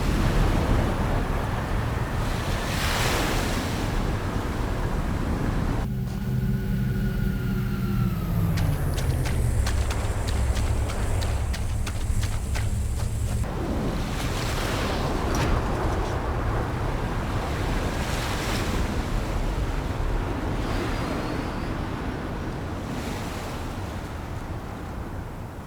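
Beach ambience with vehicles in Halo: Campaign Evolved: a steady loud wash of surf and wind with engine hum, interrupted midway by a descending vehicle drone and whine before the roar of waves and motors returns.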